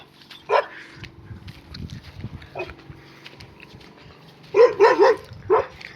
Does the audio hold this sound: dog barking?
yes